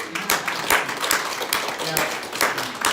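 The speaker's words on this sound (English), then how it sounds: "let's give all the new individual a round of applause" A room of people applauds new trainees at a training session, a loose burst of hand claps at moderate volume with voices murmuring underneath.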